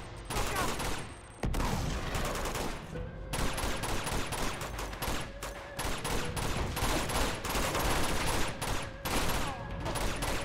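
Dense gunfire rattles through an Uncharted 2 video game shootout in a monastery, with rapid, continuous bursts of shots, loud and close, and someone speaking in the background.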